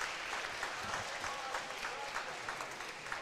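A badminton final crowd at the YONEX Canadian International Challenge applauds, a continuous patter of many hands clapping at a fairly faint, distant level with a few louder bursts, without any prominent voices.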